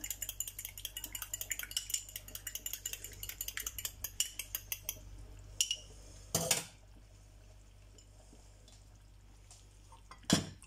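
Beaten egg goes into a simmering white soup and is stirred: quick, rhythmic utensil clinks against the pot for about five seconds, then quiet, with a couple of louder clatters later, close and soft.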